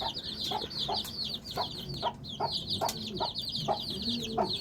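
Chickens in a small backyard poultry setup cluck repeatedly in quick, rhythmic bursts close by, with several birds overlapping against a light outdoor background.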